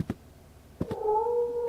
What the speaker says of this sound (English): That's a very scary cat sound, I will admit that.